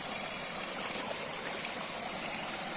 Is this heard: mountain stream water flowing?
yes